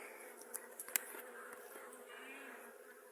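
Honey bees buzzing around a hive with honey frames, a soft continuous drone with a few faint clicks and knocks, no talk.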